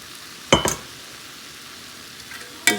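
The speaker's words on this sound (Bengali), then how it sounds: "পাঁচমিশালি সবজির মধ্যে এই মশলাটা দিয়ে দেবো এখানে আছে পোস্ত কাজু বাদাম আর সর্ষে" Mixed vegetables being stirred in a pan with a paste of poppy seed, cashew and mustard, two sharp scraping clinks of the spoon over a faint low sizzle.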